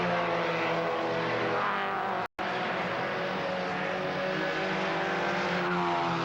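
A Mazda race car circles a BMW on the track during the final hour of the 1992 James Hardie 12 Hour, its engine a steady mid-distance drone that cuts out for a moment and then returns.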